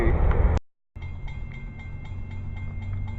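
A passing train rumbles steadily with a low drone and faint rhythmic clicks of wheels over rail joints, briefly cut by a gap of silence, then continuing at a moderate distance.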